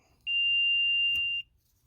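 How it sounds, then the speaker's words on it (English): A contactless voltage tester gives a single steady electronic beep, high-pitched and sustained for about a second, alone against a quiet background. "contactless voltage sensor, turn it on, make sure it beeps"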